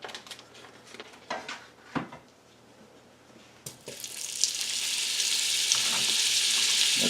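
Half a stick of butter drops into hot bacon grease in a pan for haluska. A few scattered clanks are followed by a sizzle that starts abruptly and swells into a loud, continuous hiss with no talking.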